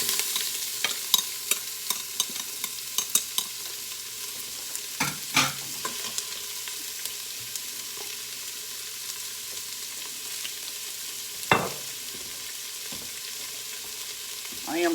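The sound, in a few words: onions frying and being stirred with browned short ribs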